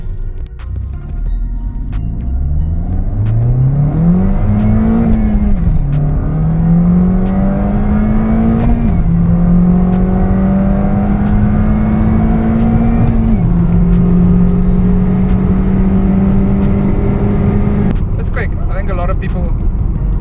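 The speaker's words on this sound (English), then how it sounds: "Driving the missus' Type R. Let's see what this bad boy's got." A Honda Type R engine revs and accelerates hard through rising gears, loud and close from inside the car, with brief dips at each shift.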